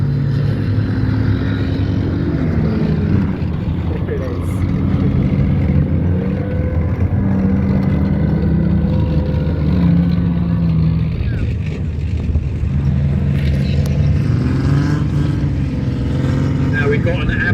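A tracked, load-carrying military vehicle with its exhaust missing runs loud and close, its engine droning and rising and falling in pitch as it moves along, with people talking over it.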